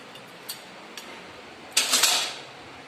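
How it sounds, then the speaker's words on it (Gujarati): Dishes clink a few times, then a burst of running water and scrubbing clatter, fairly close with no talking. "આપણે વાસણ ઉટકવાના છે, ગેસ સાફ કરવાનો છે, વાસણ ઉટકવાના છે"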